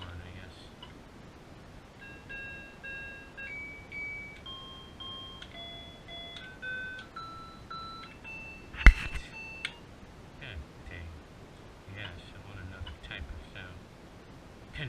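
An Atari 800XL computer sounds a bell horn effect: a series of short electronic beeps at changing pitches, moderately quiet, with one sharp click partway through and faint talking around it.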